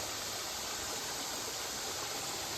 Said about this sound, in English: Man, what a beautiful creek.